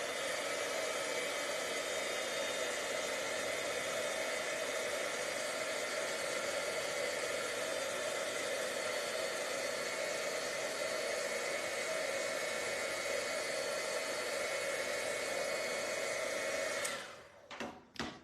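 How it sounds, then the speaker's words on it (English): Embossing heat tool blowing hot air to melt embossing powder on a card, a steady loud whooshing whir held for about seventeen seconds before cutting off, followed by a couple of faint clicks. "I'm just going to give that a squirt with my heat tool"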